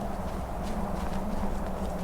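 Horse hooves clip-clop in a steady, quick rhythm, like a trot, over a constant low background hum, in the video game Skyrim.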